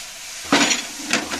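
Red and green peppers stir-fried with cauliflower rice in a hot pan give two bursts of sizzling and spatula scraping over a low background hiss, with no talk.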